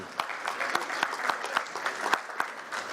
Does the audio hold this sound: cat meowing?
no